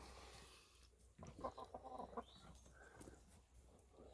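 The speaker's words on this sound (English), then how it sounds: "the chickens seem happy." Several hens cluck and squawk in short bursts, fairly close, over a quiet background hum.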